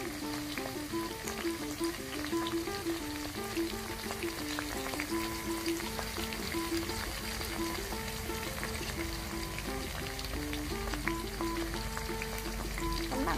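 Crickets deep-frying in a shallow layer of oil on their second round, a steady dense sizzle with bubbling crackle running continuously and evenly throughout, close and alone with no talk.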